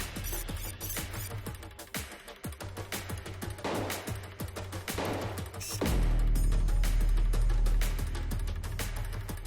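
An officer fires at a fleeing suspect inside a building, leaving a jumble of sharp gunshot cracks and loud impacts in a chaotic scene, followed by a heavy, sustained low rumble.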